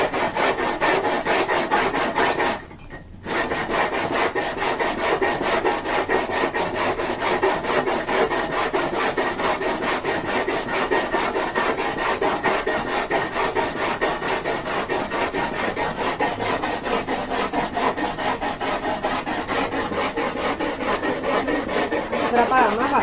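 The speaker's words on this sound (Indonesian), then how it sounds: "kita haluskan pakai kasar, amplas yang kasar" Steady, continuous rasping of coarse sandpaper rubbed back and forth over wood, with one brief pause near the start, close and even in loudness.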